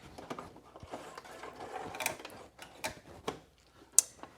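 A sewing machine runs a test zigzag stitch through two folded layers of fabric, giving short mechanical whirring bursts and clicks at close range, with brief pauses between runs and no talking.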